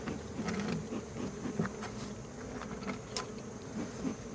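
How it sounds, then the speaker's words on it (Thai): Wild cavity-nesting honey bees hum in a steady, dense buzz close by, with a few individual bees droning louder as they pass near. "วันนี้มาจับพึ่งแล้วครับ"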